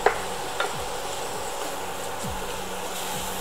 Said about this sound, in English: we're going to add in our onions and our garlic and saute it till it's nice and translucent.